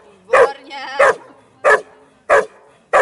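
A dog barks hard during protection training, four loud, close barks spaced roughly half a second to a second apart, with a whine between the first two.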